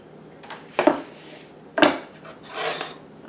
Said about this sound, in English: I'm just going to mix the cucumbers and the onions.